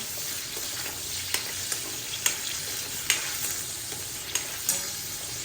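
Raw grated coconut sautéing in a pan for a green pomfret curry, a steady soft sizzle broken by light scraping stirs at irregular intervals, close and moderately quiet with no talking.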